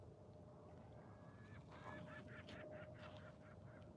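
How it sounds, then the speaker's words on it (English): Loud gull-like bird calls ring out repeatedly by a lakeside carp fishing spot, a flock squawking in overlapping bursts over a steady background of wind and water. "These seagulls, they're so loud."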